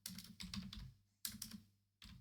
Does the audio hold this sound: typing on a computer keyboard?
yes